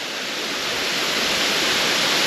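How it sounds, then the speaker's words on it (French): Waterfall of the Cascades de la Piche at Prayols, a steady, loud broadband rush of cascading water filling the scene without pause, close and constant throughout with no voices. "Elle est vraiment belle cette cascade."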